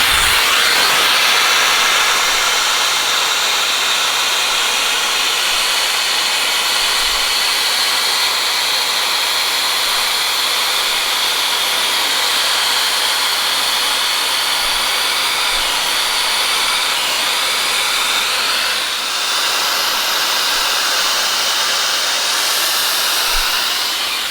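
A Shark FlexStyle hair dryer fitted with its smoothing tool blows a loud, steady, close airy whoosh that runs unbroken throughout, with only slight shifts in tone.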